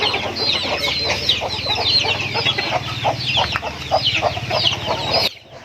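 Serama chickens cluck in a steady, busy stream of short calls, close and fairly loud, with several birds overlapping before the sound cuts off near the end.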